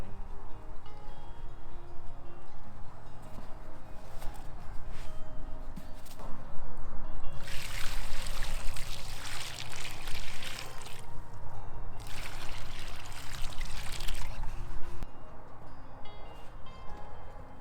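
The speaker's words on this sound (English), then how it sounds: "So I'm going to go ahead and water this in before I finish backfilling." Water pours and splashes onto soil around a newly planted false cypress shrub in two strong bursts, with quieter trickling and outdoor background noise around them.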